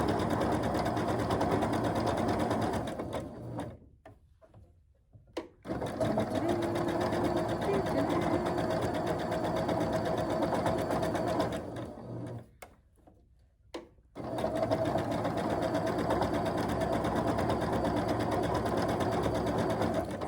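A sewing machine stitches a quilt block in steady rapid runs, stopping briefly twice before resuming, close and fairly quiet, with no talk.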